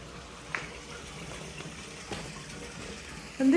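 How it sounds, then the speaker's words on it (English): Water running through an old municipal outdoor washing place, a steady low wash of flowing water heard at a moderate distance, with a couple of soft knocks and a louder burst of sound right at the end. "They do still have running water through it."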